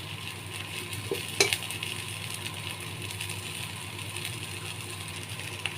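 Potato and soybean curry fries in a pan with a low, steady sizzle, a few soft stirring clinks near the start, and no talk.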